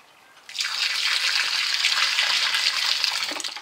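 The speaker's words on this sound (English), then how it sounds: "Now time to add some clean water." Clean water poured into a sand and cement render mix in a bucket or tub, a sudden bright gush that runs steadily for about three seconds and then tapers off. It is close and fairly loud, with no talk.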